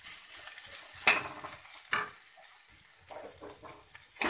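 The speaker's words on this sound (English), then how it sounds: "Now I am adding freshly grated coconut." Freshly grated coconut frying in a pan for veg sagu, with a soft continuous sizzle broken by several sharp clinks and scrapes of a spoon stirring against the pan.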